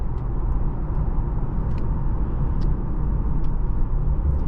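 A 2008-2011 Ford Crown Victoria P71 Police Interceptor driving, heard from inside as a steady low engine and road drone with a few faint ticks and rattles.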